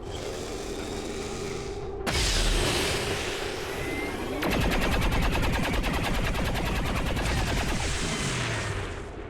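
Gunfire in the video game XCOM 2: loud bursts of automatic weapons fire, rapid rattling volleys and booming shots layered continuously, close and dense with no talk.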